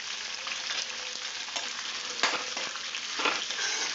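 Chopped onions, ginger and garlic fry in hot oil for an egg curry, a steady close crackling sizzle running throughout with a few sharper spatter bursts and stirring scrapes.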